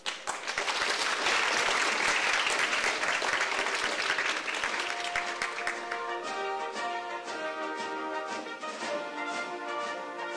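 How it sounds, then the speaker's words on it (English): Audience at a university women's sustainable development science week event applauds as officials walk onto the stage, a dense, loud wave of clapping that holds steady for several seconds before easing as music-like tones emerge underneath. "Please give a round of applause for them."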